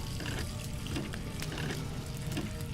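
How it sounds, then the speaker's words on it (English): Water sloshes and pours out of a small bucket in the Nancy Drew game Ghost Dogs of Moon Lake, a steady close splashing gush lasting a few seconds with no talk. "sound of pouring out water"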